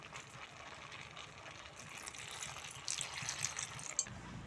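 A little water is poured into a shutki (dried fish) and bean curry seasoned with turmeric, chili powder and salt, a soft steady gush over a faint kitchen background, with brief louder splashes near the end.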